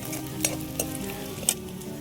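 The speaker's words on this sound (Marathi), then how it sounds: "हिरव्या मिरच्याचा कच्चेपणा जाईपर्यंत डबल भाजून घेऊ कांद्यात" Green chillies fry with onions in a pan for methi bhaji, giving a steady close sizzle broken by a few sharp spatula scrapes and taps.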